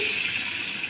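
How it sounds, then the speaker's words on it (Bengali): Hot water pours into a cooking pot of curry on the stove in a brief, steady gushing stream, close and fairly loud. "এই যে দিয়ে দিলাম গরম পানি"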